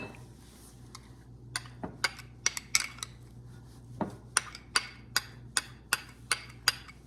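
Ricotta cheese stirred in a bowl, a spoon knocking against the bowl in a steady run of sharp, close clinks, quicker toward the end, with no talking.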